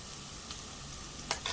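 Onion and ginger-garlic paste sautéing in a pan: a soft, steady frying hiss with a couple of brief stirring scrapes near the end.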